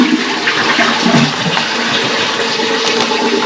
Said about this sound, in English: We just flush it one more time while we're here.